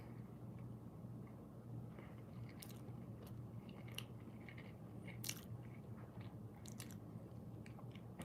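Someone chews food close to the microphone: soft, quiet crunching and moist bites repeat irregularly over a low steady hum, with no talking.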